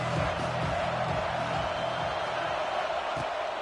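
A football stadium crowd roars steadily for the defense on a third down, a dense, continuous wash of cheering and whoops at a moderate distance, with no clear individual voices.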